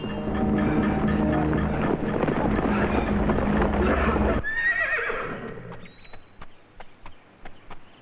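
A horse neighs loudly under a dense wash of sound, then after a sudden cut a series of sharp clip-clop hoof strikes sound clearly, spaced and fairly close.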